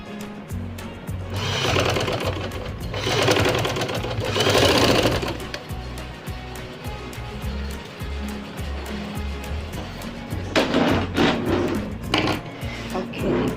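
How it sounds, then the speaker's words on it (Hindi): A sewing machine stitches a round neckline in several sustained runs of fairly loud whirring. Brief stops break up the runs, and faint speech sits underneath. "ऐसे करके हमने सारी सिलाई लगा लेनी है।"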